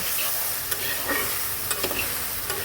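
Hilsa fish head curry with ridge gourd stirred in a pan, a soft continuous sizzle broken by several quick scraping strokes, close and alone without speech.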